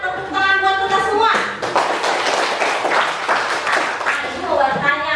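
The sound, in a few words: classroom clapping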